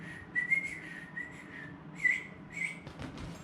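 A person whistles a short, wavering tune in a series of brief phrases, close and clear against a quiet room.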